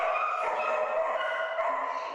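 Several puppies yip, whimper and bark in quick overlapping bursts, close and fairly loud, forming a steady busy chatter of high dog voices throughout.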